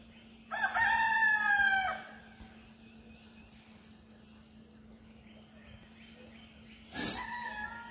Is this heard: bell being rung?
no